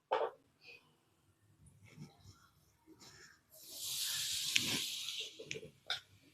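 Grated coconut roasting in ghee on a low flame gives a soft, steady sizzling hiss that swells for a couple of seconds midway, with faint kitchen clatter and stirring before and after.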